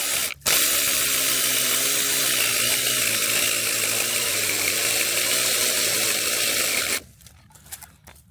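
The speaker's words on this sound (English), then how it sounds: "that ain't normally how you use a chainsaw, I know. I'm kind of whittling it back." A battery-powered chainsaw with a dull blade grinds steadily through a tree grown into a fence, a loud continuous buzzing whine for about seven seconds before cutting off abruptly into quieter ambient noise.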